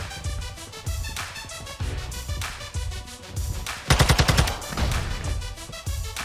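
Rapid automatic gunfire from the video game Warzone 2.0, a steady stream of shots with a louder, denser burst near the middle, no talking.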